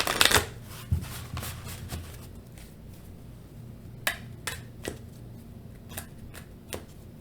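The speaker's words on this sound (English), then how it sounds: "let's pull you an oracle card" Oracle cards being shuffled by hand, a soft papery riffle at the start followed by scattered light taps and flicks of the cards, close and quiet with no talking.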